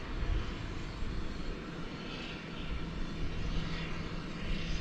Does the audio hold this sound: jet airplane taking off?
yes